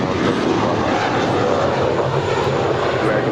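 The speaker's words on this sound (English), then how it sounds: "This departure is American Airlines 353 departing to Dallas Fort Worth. It's an A321." A loud, dense roar from an American Airlines Airbus A321 departing LAX for Dallas Fort Worth, a close, unbroken burst of jet engine noise with heavy low rumble.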